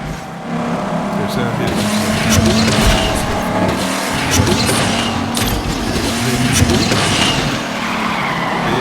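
Race cars in the Asphalt 9 racing game, a Camaro against an Aston Martin, roar steadily with skidding tire squeals and passing engine surges, loud and continuous, with a voice talking over the game sound.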